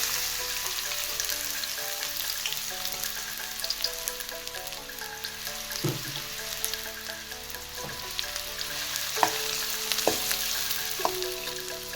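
Sliced onions fry in hot oil in a kadai, a steady close sizzle and crackle with occasional scraping stirs and soft clinks, no voices.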